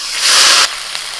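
Onion paste hits hot oil spiced with black cumin, letting out one loud, bright burst of sizzle that falls off sharply to a lower hiss.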